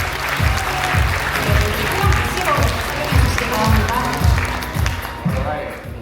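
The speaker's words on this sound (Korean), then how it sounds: "큰 박수로 맞이해주시면 감사하겠습니다." An audience at a Notion showcase event applauds to welcome Notion's CTO to the stage: dense, sustained clapping from a crowd throughout, fairly loud and close, with a steady rhythmic low thumping underneath.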